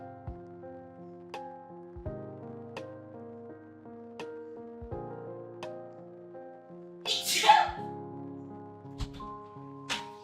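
A single sharp sneeze bursts out near the end over steady instrumental music from God of War: Ghost of Sparta gameplay, loud and brief against the soft background.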